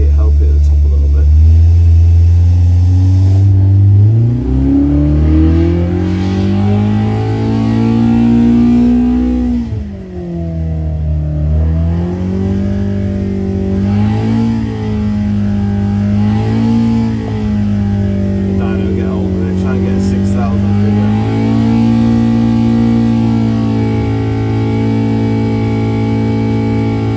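A Hillman car engine with a misfire and the exhaust pipe removed revs up and down repeatedly, loud and close, the rough mid-pitched roar swelling and dropping over nearly half a minute.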